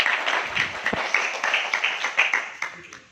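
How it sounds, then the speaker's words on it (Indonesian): A school crowd claps in a dense, steady burst of applause lasting a few seconds, fairly close and even in loudness. "Tepuk tangan"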